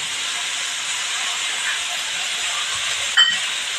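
Soaked dal and fenugreek leaves hit a hot pan, giving a steady, loud hissing sizzle that runs throughout, with a brief clatter near the end.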